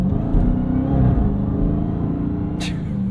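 A 2023 Dodge Charger SRT Hellcat Jailbreak with a supercharged 717 hp V8 rumbles loudly from inside the cabin as it accelerates, with a deep, steady engine roar and a brief high hiss near the end.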